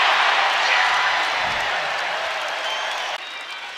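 A basketball arena crowd at a Nebraska home game against Cal State Fullerton applauds and cheers in a broad, sustained roar that eases slightly before dropping off sharply near the end.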